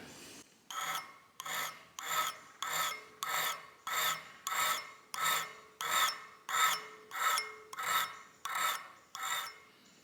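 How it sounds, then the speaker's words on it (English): A file rasps across the steel edge of an arrow broadhead, putting a micro bevel on the flat side, in about fourteen steady, evenly spaced strokes that are close and fairly loud, with no talking. "you're going to go on the flat side over here, opposite your bevel, and put a little micro bevel right on the end"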